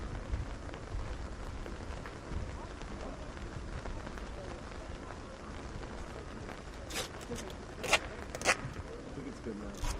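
Steady rain falls outdoors at a boys' sports combine in Montreal, a constant broadband hiss with a few sharper rustles near the end, while people talk faintly in the background.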